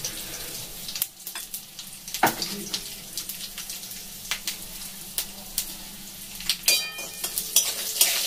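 Cumin seeds and Bengali five-spice (panch phoron) frying in hot oil in a home kitchen, a steady close sizzle broken by sharp spatters and a few clattering stirs, with no talking.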